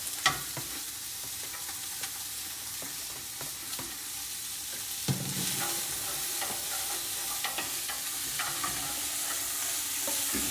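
Vegetables sizzle steadily in melted butter in a hot pan, with a sharp hiss as they hit the fat and clinks of stirring, close and fairly quiet.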